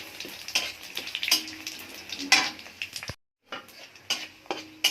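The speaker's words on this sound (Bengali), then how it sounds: "বড়ি দেব, ফোড়ন দিলাম, 5 ফোড়ন, শুকনো লঙ্কা, তেজপাতা ফোড়ন দিয়ে দিয়েছি" Panch phoron, dried red chillies and bay leaves crackle and fry in a hot pan, with clinks of a utensil against metal and a brief silent gap.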